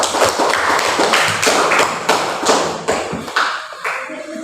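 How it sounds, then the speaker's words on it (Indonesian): A small classroom group claps together after a lesson on teaching practice, a dense patter of overlapping hand claps filling the room loudly, with no voices. "Oke, tepuk tangan dulu"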